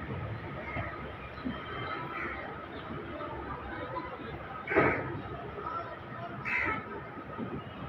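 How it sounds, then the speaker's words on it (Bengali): Balurghat Express LHB train running after departing Malda Town, a steady rolling rumble and rattle of the coaches, with a couple of brief louder clanks and faint background chatter. "3:47 আমাদের ট্রেন ছেড়ে দিল এখন মালদা টাউন স্টেশন থেকে।"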